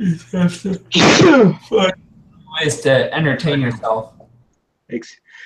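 A single loud, close sneeze bursts out early, surrounded by casual conversation among people talking nearby.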